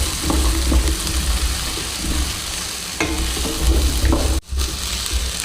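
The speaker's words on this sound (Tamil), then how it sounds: "இது கூடவே தேங்காய் சேர்த்துக்கலாம். நல்லா கலக்கி விட்டுக்கோங்க." Masala and grated coconut for a Chettinad chicken gravy are stirred while they fry in a pan. A steady, close sizzle runs under repeated scraping strokes, and a brief gap breaks it near the end.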